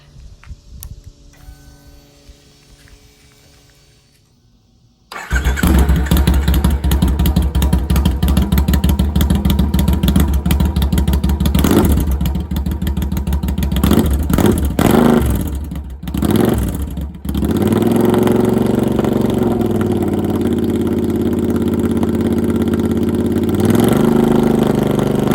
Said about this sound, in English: 2011 Triumph Speedmaster. Alright, let's crank it.